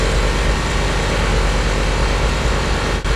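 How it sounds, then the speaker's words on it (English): A loud, steady roar from a cold car engine idling high on choke, with a low rumble and a slightly shaky, high-revving drone that holds constant throughout, with a brief dip near the end. "Right now it's revving a little high. It's cold. That's why it's shaking a bit."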